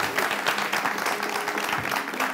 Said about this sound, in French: Pour applaudissements.